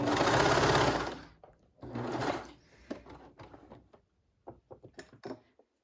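A coverstitch sewing machine hems a circle skirt, with two close, loud stitching runs followed by quieter clicks and handling of fabric and the machine.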